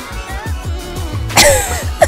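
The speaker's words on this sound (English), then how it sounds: "even my cough doesn't sound as good" A person coughs once near the end, a short close burst following a stretch of soft muffled sounds.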